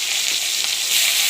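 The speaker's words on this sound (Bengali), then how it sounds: "এবার আমরা এর মধ্যে সব প্রথমে একটু রসুন কুচি দিয়ে দেবো, তারপর পেঁয়াজ কুচি" Chopped garlic and onion fry in hot oil in a pan for chilli paneer, giving a steady close hissing sizzle with no talk.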